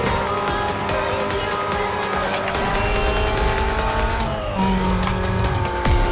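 Racing cars in Need for Speed Most Wanted on PS2, engines roaring steadily throughout with tire squeal and skidding layered over the continuous loud game audio.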